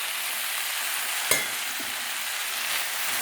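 Rice with tomato, salt, turmeric, red chili, raisins and ground coriander is stirred in a pan. It sizzles steadily throughout, with one sharp scrape of the spoon near the middle and no voices.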